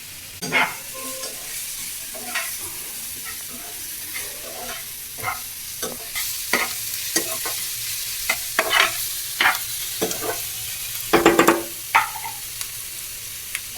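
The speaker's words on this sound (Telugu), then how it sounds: "సో ఫస్ట్ అయితే ఉల్లిపాయలు బాగా మగ్గించుకోవాలి." Onions fry in a pan on the stove for a village-style chicken curry, a soft continuous sizzle broken by repeated scraping stirs of a spoon, close and without talk.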